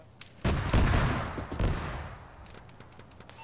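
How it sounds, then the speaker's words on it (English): Cannon fire in the military video game Arma: a heavy booming blast followed by a second thump and a rolling tail, with scattered distant shots around it. "Got a cannon fire from the west."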